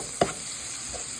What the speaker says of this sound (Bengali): আমি এগুলোরে তেলের মধ্যে একটু ভেজে নিব